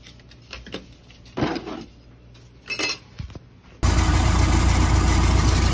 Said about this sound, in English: the boat is running nicely